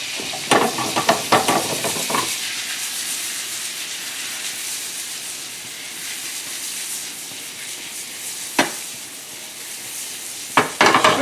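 Shallots frying in butter and olive oil, a loud, steady close sizzle with a few clattering stirs at the start and occasional utensil knocks later.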